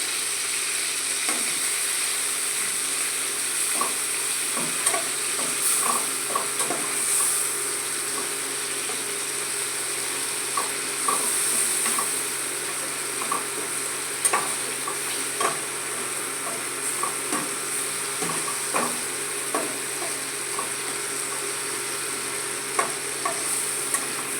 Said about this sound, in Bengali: এই দিয়ে আবার কষিয়ে নিচ্ছি।